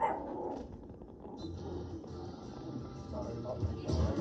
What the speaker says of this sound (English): You guys can hear my dog in the background